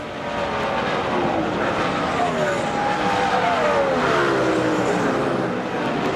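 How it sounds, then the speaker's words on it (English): NASCAR stock cars roar around the track during the 2005 UAW GM Quality 500, engines passing loudly with rising and falling pitch sweeps that blend into a continuous racing drone. "Greg Biffle in the 16, the National Guard trying to get past the Army"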